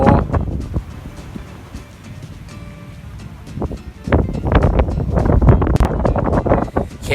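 Wind buffets the microphone aboard a boat on the Mekong River, a rough, gusty rumble that keeps shifting and grows stronger toward the end.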